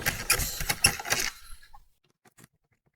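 Screws being backed out of a Smart car's SAM unit housing, giving a dense run of close mechanical clicks and rattles for about a second and a half before it goes nearly silent, with a few faint ticks after.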